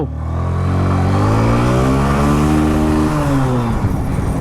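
A Hero Honda Karizma R motorcycle engine revs hard and accelerates up through the range with a rising, loud, close drone. The pitch climbs steadily, then the engine shifts near the end.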